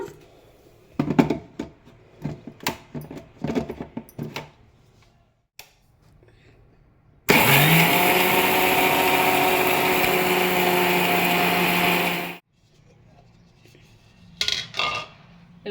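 A kitchen mixer grinds cumin and niger seeds into chutney powder in one loud, steady whirring burst of about five seconds, set between quieter clattering handling sounds before and after.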